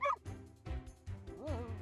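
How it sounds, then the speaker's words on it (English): Dogs in the video game Reverse: 1999 yip and bark in a few short bursts with a whimpering, rising whine near the end, close and fairly clear. "Stop it, you cheeky dogs!"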